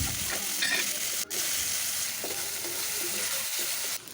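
Dried fish and onions frying in hot oil in a pan, a dense continuous sizzle with occasional stirring scrapes and a brief break in the sizzle.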